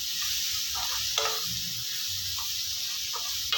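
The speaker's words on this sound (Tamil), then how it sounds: "நல்ல இந்த எண்ணெயிலேயே இந்த மிளகாத்தூளை வதக்கணும்" Chili powder sautéing in oil for a pepper garlic kulambu, a constant bright hiss of frying with a few faint stirring scrapes, close and steady, no speech.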